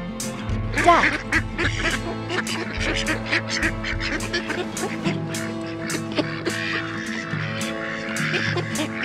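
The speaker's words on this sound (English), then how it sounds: "Duck." Repeated duck quacks over a busy, music-like background, several calls in quick succession at moderate loudness.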